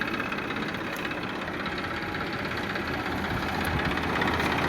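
A 2016 Massey Ferguson 1035 farm tractor idling, with a steady, unbroken low engine rumble and faint mechanical clatter held at an even level for several seconds.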